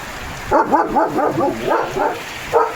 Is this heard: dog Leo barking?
yes